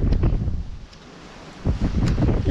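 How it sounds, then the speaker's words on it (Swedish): Gusty wind buffets the microphone in heavy low rumbling bursts, easing briefly in the middle before surging again. "det blåser ju så mycket"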